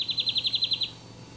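A bird gives a quick run of about eight bright, evenly spaced chirps, fairly close and clear, then falls silent against a faint background.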